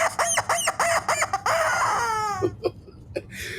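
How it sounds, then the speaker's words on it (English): Rubber chicken toy squawking in a rapid run of shrill, honking squeezes that stretch into a longer drawn-out wail, then a few short final squeaks, loud and close with no talking. "I'm just a rubber chicken."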